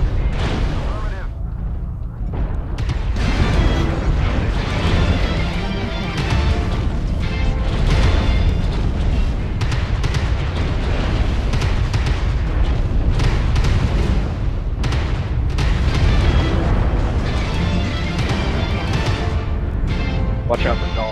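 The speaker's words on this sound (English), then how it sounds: "Artillery strike online." Artillery strike in MechWarrior Online, a dense run of heavy booming explosions and rumbling impacts lasting throughout, loud and continuous with overlapping blasts and some radio-style game voice chatter mixed in.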